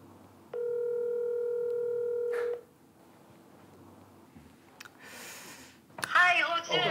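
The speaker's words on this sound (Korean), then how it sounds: "최지우 선배한테 한번 전화 한번 해볼게요." A single steady electronic telephone ringback tone sounds for about two seconds, followed by quiet, a short hiss, and then a voice speaking.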